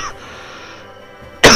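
A man who is unwell lets out one sudden, loud cough right at the end, following a near-silent stretch with a faint hiss.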